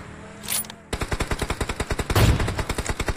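Automatic rifle fire in PUBG on the Erangel map, a rapid sustained burst of evenly spaced loud shots following a short quiet moment, close and with no talk over it.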